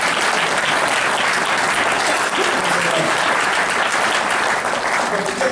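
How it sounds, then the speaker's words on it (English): Loud, sustained round of applause from an audience at an event honouring the Tuskegee Airmen, a dense continuous roar of clapping from start to finish with faint voices mixed in. "can I get another round of applause?"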